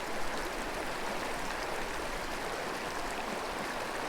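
Steady, soft babbling of a flowing creek at a fly-fishing spot, an even continuous wash with no voices.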